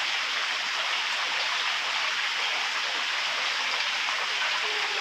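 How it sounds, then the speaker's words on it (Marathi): Heavy monsoon rain pours steadily in Ratnagiri on the Konkan coast, a dense, continuous hiss of downpour on the ground and surfaces, loud and unbroken throughout with no voices. "पाऊस जोरात लागतोय."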